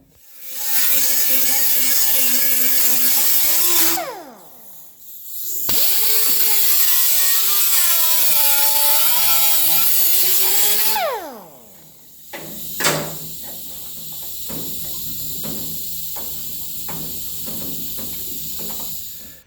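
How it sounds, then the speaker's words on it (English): A grinder working the edge of rusty car body panel metal, two long, loud whining passes with wavering pitch, then the tool spins down with a sharp clank and lighter scraping and ticking sounds. "I'll grind the edge of this here now and get clear of that."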